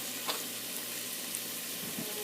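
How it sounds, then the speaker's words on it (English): A teaspoon of cumin sizzles in hot oil in a pan while catfish and mango curry is cooked, giving a soft, steady crackling hiss with faint clinks, quiet and close. "Still sizzling."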